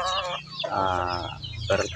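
A brooding hen clucks and croons in drawn-out, throaty calls close by, with a short sharper squawk near the end.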